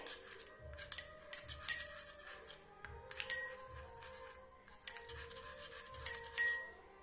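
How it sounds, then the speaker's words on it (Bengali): A spoon stirs sugar in a bowl for a homemade face pack, giving repeated bright clinks and taps against the bowl in uneven bursts, close and fairly quiet, with no talking. "দেখো তো চিনিটা যত সময় না গলবে তত সময় আমি ভালো করে এভাবে নেড়ে চেড়ে নেব।"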